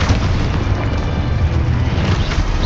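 A heavy, sustained boom from the Exposo spell blasting in Hogwarts Legacy, loud and rumbling with dense low-end roar that holds steady across the moment.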